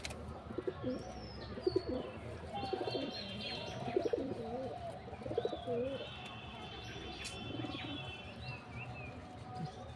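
A pigeon that eats from a person's hand gives several low, throaty coos spread across the stretch, near and moderately loud, with faint chirps and ambient hum behind.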